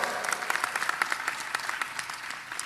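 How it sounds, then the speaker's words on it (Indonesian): Lively audience applause at a Ramadan religious gathering, many hands clapping continuously with sharp individual claps standing out from the crowd, fairly loud and steady throughout the brief burst with no talking over it. "Tepuk tangan untuk Tambak Beras."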